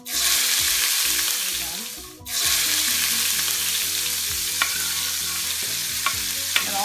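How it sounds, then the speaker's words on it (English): Onions sautéing in hot bacon grease in a pan, a loud continuous sizzle that dips briefly as they are stirred, then surges back with a few small utensil clicks. "you're gonna put in the onions to saute them."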